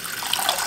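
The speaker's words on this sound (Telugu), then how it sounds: "ఇప్పుడు నీళ్ళు పోతున్నాను చూడండి జావగాయడానికి" Water is poured into a pot on a lit stove to make porridge, a short steady splashing gush heard close up with no talking.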